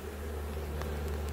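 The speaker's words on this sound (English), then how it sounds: "There's just a mass of bees." A dense mass of honey bees crowds a hive box during an inspection, giving a steady close buzzing hum that fills the short moment without any voices.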